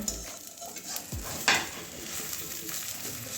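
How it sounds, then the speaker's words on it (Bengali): Cabbage omelette frying in a pan and being flipped over, with a soft steady sizzle, a few scraping turns of a spatula and a brief metallic clink. "এভাবে উল্টে পাল্টে করে ভেজে নেবো"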